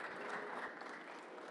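An audience applauds after a talk on concussion and head trauma in impact sports, a short burst of dense, fairly faint clapping from a crowd.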